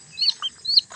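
Young chicks hatched naturally without an incubator peep in short high chirps, several bright calls in quick succession, close and clear with no talking.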